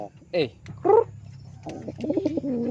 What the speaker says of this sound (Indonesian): tuh banyak juga nih burungnya